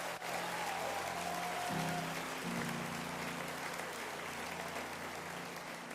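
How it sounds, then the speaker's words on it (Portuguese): Applause from an audience at a live church worship service, a dense sustained clatter of clapping heard throughout, with a musical backing tone running beneath it. "Deem uma grande salva de palmas para eles agora."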